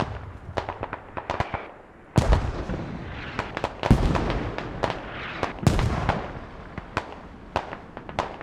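Mortar fire and explosions in the video game Squad, a dense run of sharp booms and cracks. Several heavy impacts stand out among many smaller distant pops.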